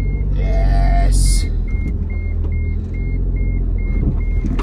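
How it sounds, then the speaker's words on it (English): A Smart car's warning chime beeps while the car sits in reverse with its door open: a short whirr at first, then a regular series of evenly spaced high beeps over a low engine idle. "It's beeping at me for some reason."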